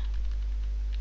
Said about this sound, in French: avec les touches de mon clavier, je vais changer